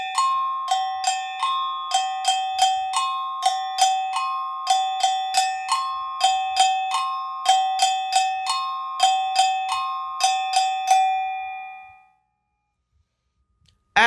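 Agogo bells play a partido alto rhythm in a clear, steady repeating pattern of bright metallic strikes, close and loud with no talking, then ring out and fall silent near the end.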